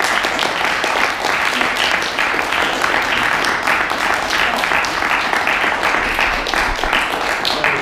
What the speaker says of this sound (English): If we can give him a warm round of applause and welcome to the stage.